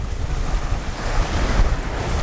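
Sustained rush of wind and breaking waves on a sailboat reaching across open water toward Moorea in 18 to 20 knot gusts, steady and full with buffeting microphone wind noise throughout, no voices.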